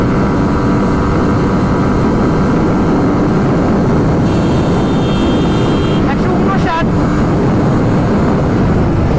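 A Suzuki GSX-R motorcycle at high speed, a loud constant engine roar buffeted by heavy wind noise, with a short higher whine near the end.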